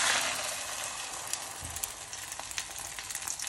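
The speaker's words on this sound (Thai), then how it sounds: "โอเคให้ร้อนแล้วก็ทอดไข่เจียวเลยจ้า" Beaten egg for a Thai omelette hisses into hot oil in a pan, a dense steady sizzle with faint crackles and small pops throughout, fairly close and alone with no talk.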